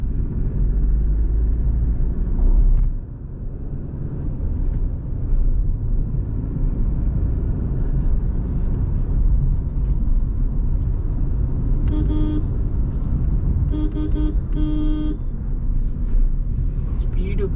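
A Mahindra car drives along a road with a steady low engine and road rumble throughout, brief horn-like tones near the end, and a person talking over it.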